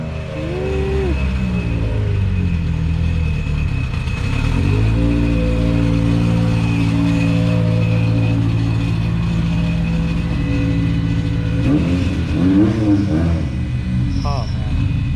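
A turbocharged, all-wheel-drive eighth-generation Honda Civic engine idles, then revs up and holds a loud, steady drone before dropping and blipping again, with people talking nearby.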